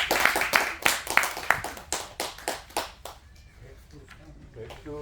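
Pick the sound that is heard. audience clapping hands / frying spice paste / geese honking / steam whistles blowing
audience clapping hands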